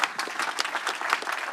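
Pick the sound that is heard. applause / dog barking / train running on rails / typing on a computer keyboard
applause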